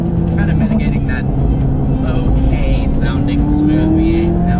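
A deep, smooth McLaren V8 engine rumbles and revs steadily, loud and close, with a rising tone near the end and voices faintly in the background.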